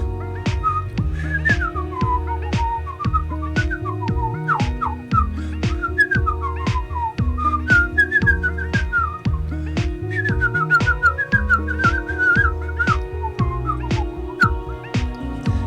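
A man sits and whistles a lively melody, the clear warbling notes running continuously at close range with faint plucked accompaniment underneath and no speech.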